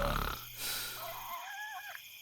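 A person imitates snoring: one loud, rasping inhaled snore followed by a thin, wavering whistle-like exhale.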